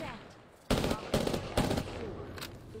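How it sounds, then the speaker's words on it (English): Rapid gunfire from a video game rattles out in three or four sharp bursts in close succession, loud and near, over a low background. "Listen up, I'm getting shot at."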